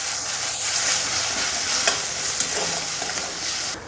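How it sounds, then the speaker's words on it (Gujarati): Red chilli powder and coriander-cumin spices sauté with onion and tomato over a low flame for Kathiyawadi dhokli curry, giving a continuous loud sizzle with occasional stirring taps and scrapes close by. "ગેસની ફ્લેમ ધીમી રાખી અને મસાલા પણ ડુંગળી ટમેટા સાથે સરસ સાંતળી લેશું."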